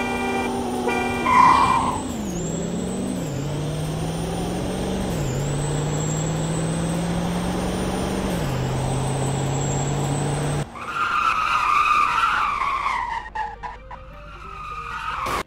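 V10 and 6.0 trucks racing in the Roblox game Greenville with traction control off and automatic transmissions in sport mode, as engines drone and rise through gear shifts with loud, sustained tire skidding, then a harsher, noisier engine roar.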